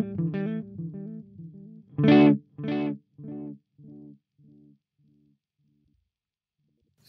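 An electric guitar note played through the delay of a Flamma FX20 effects pedal, answered by a string of echoes that repeat evenly, each fainter and duller than the last, until they fade to silence.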